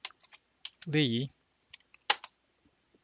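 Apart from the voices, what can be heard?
typing on a computer keyboard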